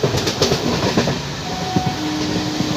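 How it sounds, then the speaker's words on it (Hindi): Indian Railways superfast MEMU train running through a junction station without stopping, with steady rumbling wheel clatter and rhythmic clicks of rail joints, close and continuous throughout. "हमारी ट्रेन अभी इंडियन रेलवे के टपरी जंक्शन स्टेशन से बिना रुके निकल रही है।"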